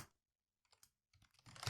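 Code is typed on a computer keyboard in a quiet room, with a few soft, scattered keystrokes followed by a quicker cluster of taps.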